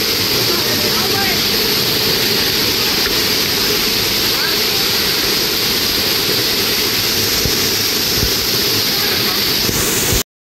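Salvapet waterfall at Udayagiri pours with a loud, steady broadband roar close by, unchanging until it cuts off abruptly near the end.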